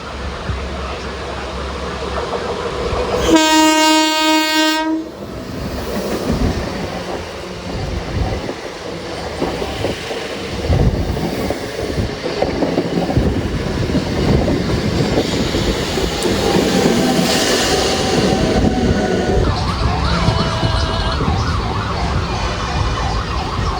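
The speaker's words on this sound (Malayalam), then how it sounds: "കോയമ്പത്തൂരിൽ നിന്ന് ഷൊർണൂരിലേക്ക് വന്ന മെമു വരുന്നുണ്ട്." A MEMU passenger train from Coimbatore to Shoranur pulls into a station. A loud, steady horn blast sounds early on, followed by a long, heavy rumble and the clatter of wheels on track.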